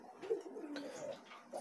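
A pigeon coos softly at close range, a few low throaty burbling calls in quick succession against a quiet background.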